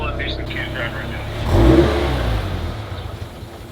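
Turbocharged Scion FR-S engine running and revving after a first start, a steady mid-pitched drone that swells into a brief rev, then settles, with people talking nearby.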